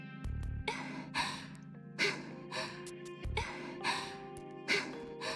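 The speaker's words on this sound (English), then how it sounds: "That panting though." Video game character panting in repeated breathy gasps, about one every second, over a steady background of game music.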